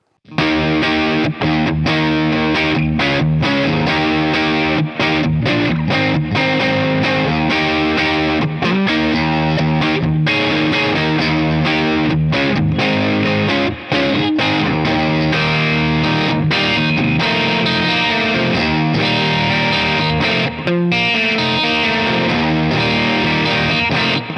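Heavily distorted electric guitar through both Planet Tone Sheminith humbucker pickups together, with a full, thick tone, strummed chords and riffs played loud and continuous with short pauses between phrases.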